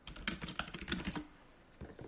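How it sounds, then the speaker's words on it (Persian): Fast typing on a computer keyboard during Linux web server setup in a terminal: dense, rapid key clicks in a quick burst, a short pause, then a few more strokes, close and clear. "میبینین سریع تایپ میکنم"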